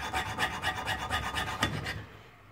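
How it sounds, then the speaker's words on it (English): A file is drawn in even, rhythmic strokes along the edge of a steel broadhead blade, about nine close rasping passes in quick succession, then quiet. "I'm not lifting the file off the blade"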